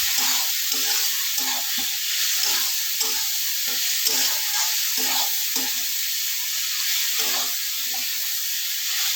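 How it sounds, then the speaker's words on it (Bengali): Fried potatoes being stirred with spices in a pan of oil for a jackfruit kofta curry, with a steady close sizzle under repeated scraping, rhythmic stirring strokes and no talking. "এরপর ভেজে রাখা আলুগুলো দিয়ে দেব। ভালো করে নাড়াচাড়া করে নেব, মশলাগুলো আলুর সাথে যেন মিশে যায়।"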